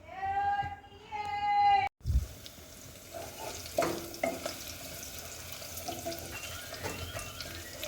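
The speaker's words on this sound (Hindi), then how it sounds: "ऑयल के गर्म होने के बाद हम इसमें डालेंगे प्याज।" Onions drop into hot oil in a pan for matar keema, setting off a soft sizzle and frying crackle. Brief tonal sounds and a sharp clatter come before it, and the frying stays faint with intermittent stirring clinks.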